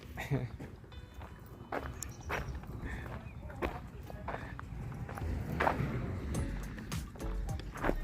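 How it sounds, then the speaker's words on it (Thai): A walk-behind two-wheel farm tractor runs with a steady, rough low chug near a rice field, its engine noise continuous under frequent nearby talking. "รถไถเดินตามนะฮะ"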